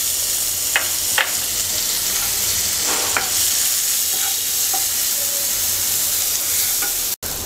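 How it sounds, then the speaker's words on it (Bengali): Chopped onions fry loudly in leftover fish-frying oil, a dense continuous sizzle with occasional scraping strokes of a spoon stirring them in the pan. "এবার আমরা পেঁয়াজ ভেজে নেব"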